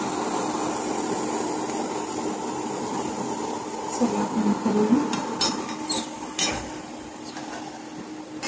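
Potato bhujia is turned in a pan, a soft sizzle running under a spatula scraping and clinking against the metal in a few brief bursts, with faint background room noise.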